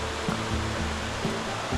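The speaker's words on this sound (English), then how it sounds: "We've been Water. following this creek right here." A flowing creek along a hiking trail, a steady broadband rush of moving water, close and continuous for the short moment.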